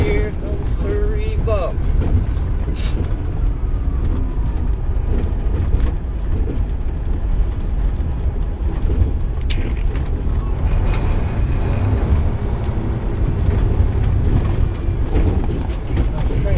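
A heavy, steady rumble with mechanical rattling and wind buffeting carries on throughout, loud and continuous, with brief voices underneath.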